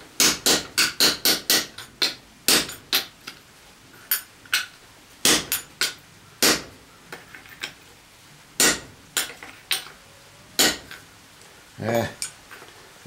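A hammer strikes again and again in sharp, close taps, quick at first and then more spaced out and uneven, with some speech at a low level.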